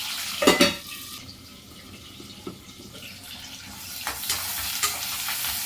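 Cloves and cinnamon frying with onions and green chillies, a soft sizzle under scattered sharp clatters and stirring knocks, fairly close and uneven.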